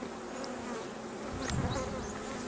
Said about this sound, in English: Really buzzing around you, aren't they? They're not liking it.